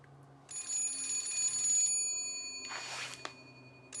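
A telephone rings with a bright, repeated electronic trill in a quiet room, a single burst of ringing that starts after a short pause and then breaks off, followed by a brief noisy rustle.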